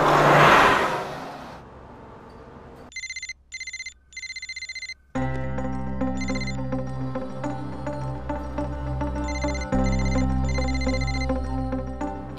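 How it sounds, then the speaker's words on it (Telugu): A phone rings out on an unanswered call, a repeating electronic ringtone in short bursts with steady pauses, first alone and then over a low humming drone, after a brief burst of noise at the start. "శ్రీకే ఫోన్ ఎత్తట్లేదు, రిప్లై ఇవ్వట్లేదు."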